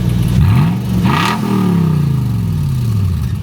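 A Lexus GX470 engine with a newly fitted exhaust revs loudly up and back down, the pitch rising then sliding slowly lower as it settles toward idle, close by.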